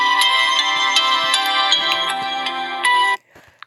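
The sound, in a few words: Samsung Galaxy J3 ringtone called Geology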